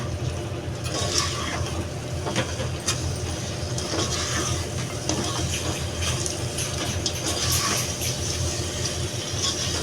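Water is poured into prawn biryani gravy in a cooking pot, giving a soft, continuous gush and splash at moderate distance with faint kitchen clatter behind it.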